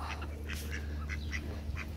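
A duck along the canals of Venice, Los Angeles, quacks repeatedly in short, fairly faint bursts over a low steady outdoor hum.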